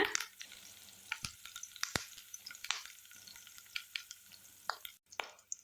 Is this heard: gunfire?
no